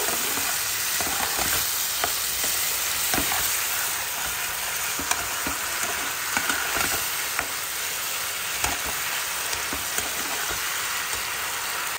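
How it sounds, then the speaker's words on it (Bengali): Fried pointed gourd stirred with whisked sour curd in a hot pan, a loud continuous sizzle broken by frequent sharp scrapes and clicks of the spoon against the pan. "এর মধ্যে আমি এই যে আমার ফ্যাটানো টক দইটা আছে, এটা এবারে দিয়ে দেবো, দিয়ে আরো কিছুক্ষণ নাড়তে থাকবো।"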